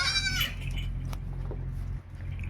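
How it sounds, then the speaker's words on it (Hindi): A household goat in a rural Indian home gives a short bleat at the very start, followed by quieter low background hum and faint rustling. "ये मेरे घर की बकरी है"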